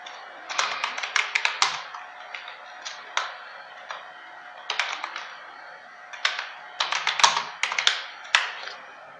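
Computer keyboard typing in bursts of rapid keystrokes separated by short pauses, close and fairly quiet, with no talking.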